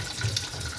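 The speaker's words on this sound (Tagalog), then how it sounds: "Hugasan ko na yung mga bote." Tap water runs steadily into a kitchen sink while glass bottles are washed, a constant close splashing hiss with a couple of brief clinks, no voices.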